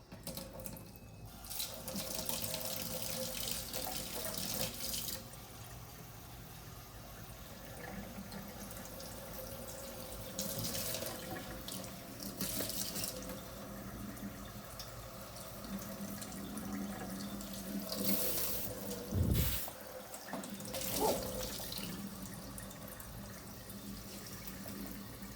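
A tap runs steadily while a plant pot is rinsed at a sink indoors, a continuous splashing stream with a few louder gushes and shifts in flow, heard close and alone with no talk.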